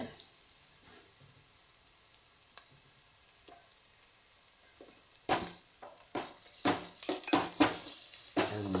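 Crushed ginger and garlic hit hot oil in a steel pan for chicken curry, starting quiet with a few faint taps, then bursting into loud, crackling sizzle with rapid spattering pops over the last few seconds.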